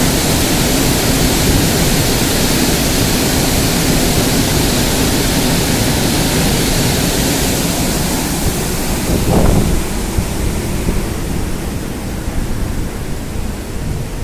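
At an opened gate of the eighteen-gate dam on the Brahmani river, water rushes in a loud, continuous roar. A brief gust or bump near the end breaks it slightly, and no one speaks.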